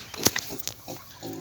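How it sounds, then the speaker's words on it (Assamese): A thin, underfed village pig grunts as it is given feed, letting out a few short, close grunts and snorts in a brief burst, with no talk. "গাহৰিটোক দানা দিওঁ বুলি ভাবিছোঁ"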